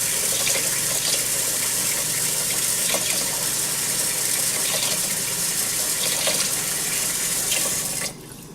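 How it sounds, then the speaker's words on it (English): Water pours continuously from a tap or vessel onto uncooked rice in a pot, a close, even gush that cuts off sharply near the end, with no talking. "slowly add the water"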